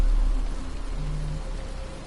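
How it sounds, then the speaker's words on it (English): Steady rain falls in a dark city alley in Batman Arkham Asylum, a soft, even hiss of drops with a low rumble beneath, continuous and fairly quiet with no voices. "But it's starting to rain."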